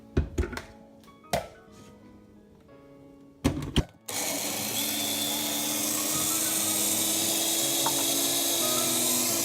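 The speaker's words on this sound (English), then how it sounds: "just add a rough amount of water" Water poured into a blender holding oats: a few clunks and knocks, then a sudden steady rush of pouring water that continues loud and even to the end.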